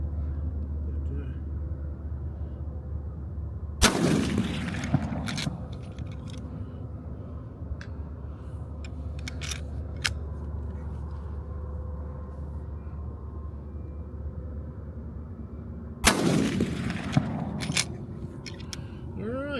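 Two sharp, loud rifle shots from a Savage 99 in .300 Savage and a 7.62 PSL at an outdoor range, about twelve seconds apart, each with a short ringing decay over a steady low rumble.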